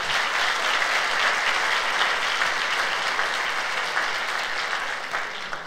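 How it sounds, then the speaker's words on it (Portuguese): Sunday church service congregation applauding, a dense, sustained roar of clapping from many people that holds steady and loud, easing slightly near the end. "Vamos dar mais um aplauso ao Senhor."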